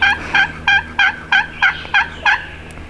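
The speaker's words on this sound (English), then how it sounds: "So he'll gobble every once in a while" A wild turkey gobbles in a run of about eight quick, evenly spaced calls on a cold, windy hunt near a beaver pond. The calls sound fairly distant and are clear over a low wind background, with no talk.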